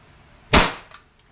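A WE Hi-Capa T-Rex airsoft pistol (2011 model) fires a single sharp, loud shot during a chronograph velocity test, a crisp crack that decays quickly, heard alone.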